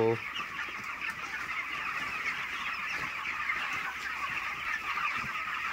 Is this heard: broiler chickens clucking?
yes